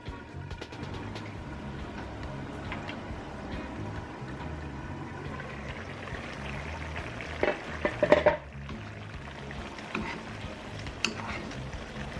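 Thai green chicken curry with pea eggplants bubbling and simmering in a pot, a steady low bubbling and stirring texture throughout with a few louder clatters near the middle, no talking.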